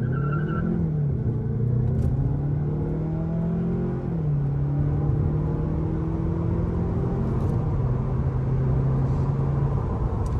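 Hyundai Sonata N-Line with traction control off, accelerating hard from a standstill to 60 mph, its engine droning loud and close as the pitch climbs and drops through gear changes.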